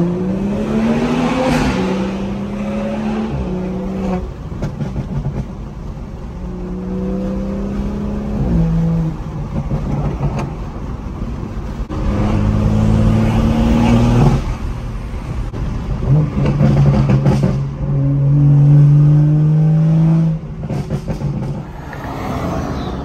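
A stage 2 tuned BMW M240i with the B58 engine cruises gently while warming up, its steady engine drone rising and dropping through several gear changes, heard loud and close from inside the car.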